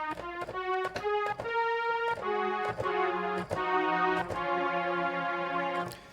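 A synthesizer melody using a patch called Old Creeker, Oregon, with bright sustained tones over a steady percussive pulse, clear and close, no speech.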